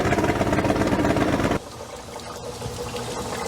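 A Yamaha outboard motor on a 1988 Ranger 393V bass boat runs loud and rough up close, then cuts off abruptly partway through, leaving quieter background noise.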